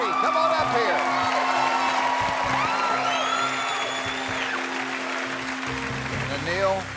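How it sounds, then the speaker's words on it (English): A game-show studio audience claps and cheers steadily at moderate volume, with scattered whoops rising over the sustained applause before it swells briefly near the end. "You have one of the largest cheering sections I've ever seen on the show."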